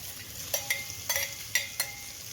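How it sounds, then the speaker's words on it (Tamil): Spices, garlic and dried red chillies sizzle in hot oil while a utensil scrapes and stirs the pan in a few quick, separate strokes. "எல்லாத்தையும் நல்லா அந்த எண்ணெயில் வந்து வதக்குங்க"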